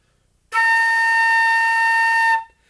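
A single steady high A on the flute held for about two seconds, clear and bright, then released.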